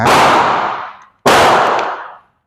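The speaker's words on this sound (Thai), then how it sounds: "ยิงด้วยกล็อก17นะครับ3นัดเหมือนกันนะครับ" Two loud shots from a Glock 17 pistol firing Thaiarms 9mm 115-grain rounds at a velocity test, each a sharp crack trailing into a long ringing decay, spaced about a second and a quarter apart with no talking.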